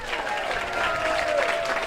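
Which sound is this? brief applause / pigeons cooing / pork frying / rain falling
brief applause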